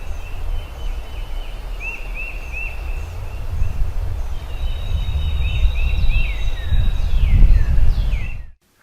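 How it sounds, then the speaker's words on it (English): Wild turkey perched on a tree limb at its roost, giving a few short clucking calls in small bursts with a later trailing call, fairly faint over steady outdoor wind and low rumble. "So we got a little footage of this turkey sitting on a limb."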